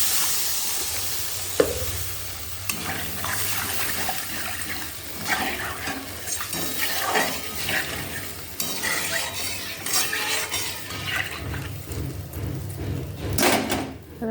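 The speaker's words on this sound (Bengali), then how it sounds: "পটলটা একটু নেড়ে ছেড়ে এবার জল দিয়ে দেবো।" A spoon stirs pointed gourd through oil-fried spice masala while cooking doi potol, a steady scraping and bubbling sizzle with clinks of the utensil against the pan, close and continuous.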